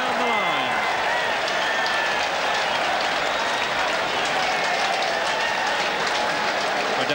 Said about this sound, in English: just wait till the crowd settle down after that